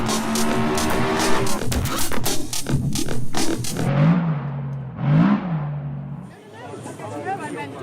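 Afternoon ambience at the London Concours car show in June: steady outdoor wash of crowd murmur and vehicle noise, with voices rising and falling close by.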